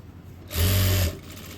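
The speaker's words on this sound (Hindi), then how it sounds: "और नीचे तक सिलाई को ले आएंगे।" A sewing machine stitching a pocket down runs in one short, steady burst of about half a second between quieter moments.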